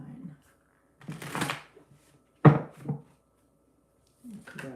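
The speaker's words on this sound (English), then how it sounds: "as the cards go flying, because they're round and not easy to shuffle" Round tarot cards are shuffled by hand in short, rustling, papery bursts with gaps of quiet between them, and a voice speaks nearby.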